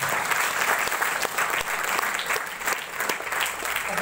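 A large audience at a business plan seminar claps steadily for about four seconds, loud and continuous, with individual sharp claps standing out of the dense wash.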